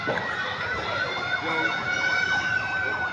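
A wailing barangay fire truck siren cycles up and down repeatedly, loud and steady against background street noise, near a market fire in Cubao.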